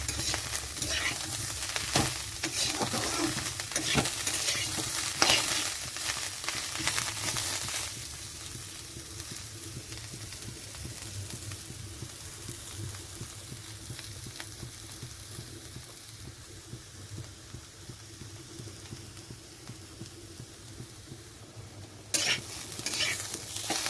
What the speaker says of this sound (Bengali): এটা ভালো করে নেড়ে চেড়ে ভেজে নিতে হবে।